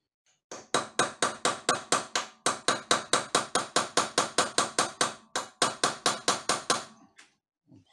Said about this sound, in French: maintenant, un marteau, un petit chasse-goupille, et il y a 2 encoches ici